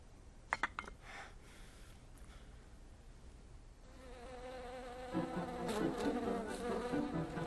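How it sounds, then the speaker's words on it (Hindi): A bee buzzes around in a room, faint at first, then swelling louder and closer as it circles, its droning whine wavering in pitch. "मधुमक्खी! भगाओ उसे!"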